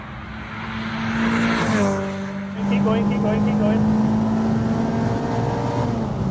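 A Renault 5 Campus fitted with a modern 2.0 Clio engine revs hard and close, its note climbing, dipping and then holding a high, screaming pitch while a man calls out over it.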